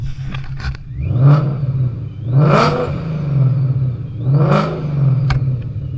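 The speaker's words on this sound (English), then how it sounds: "Let me give you guys some revs on my boosted Mustang as well" A powerful boosted 1000hp Ford Mustang engine revs hard three times, each surge rising and falling over a steady rumbling idle, close and loud.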